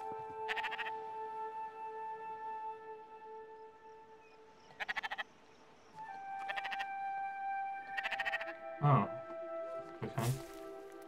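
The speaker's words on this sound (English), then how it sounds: "Oh, sheep?" Sheep bleating in the Spiritfarer video game, short wavering calls recurring every second or two against a steady droning game soundtrack, with a brief voice passing near the end.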